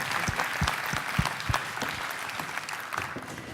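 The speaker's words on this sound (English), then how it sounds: "Let's give a round of applause" Audience applause at a global healthcare and life sciences innovation conference pitch session, with several distinct close claps standing out over a dense crowd of clapping.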